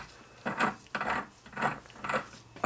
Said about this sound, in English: That's cutting the seat, no problem at all.